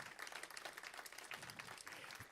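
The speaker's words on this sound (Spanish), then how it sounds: "Dale un aplauso de gratitud al Señor." A church congregation claps in a quiet, fairly even round of applause, faint and distant.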